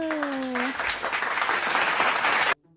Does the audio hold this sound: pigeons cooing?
no